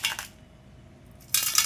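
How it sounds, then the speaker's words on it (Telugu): Tempering spices hit about two spoons of hot oil in a kadai: a short, bright sizzle, a near-silent pause, then a second louder burst of crackling sizzle, close by. "ఇందులో మనం ఇప్పుడు పోపు దినుసులు వేసుకుందాం."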